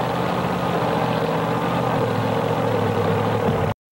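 A Dodge Omni tractor-pull car with its long wheelbase and engine set far forward idles steadily with a deep, rough throb, loud and continuous until it cuts out abruptly near the end.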